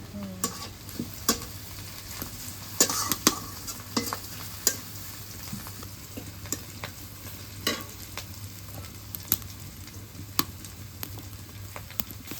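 Chillies and onions fry in a village kitchen pan, a soft steady sizzle broken by repeated sharp scraping and tapping as the food is stirred, fairly quiet and without voices.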